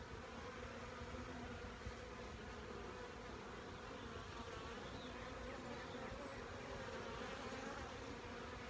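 Bees buzz in a steady, dense drone during a beehive inspection, close and continuous with no voices over it.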